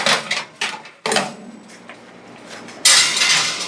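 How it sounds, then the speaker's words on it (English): A toaster oven part is scrubbed and knocked about in a kitchen sink, with metallic clanks and scraping in uneven bursts and a harsher rushing scrub near the end. "I'm gonna scrub it in the sink."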